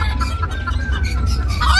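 A young chicken clucks in short, sharp bursts over a steady low rumble, with a few scattered calls across the moment.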